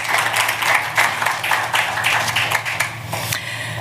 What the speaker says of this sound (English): maybe they deserve another round of applause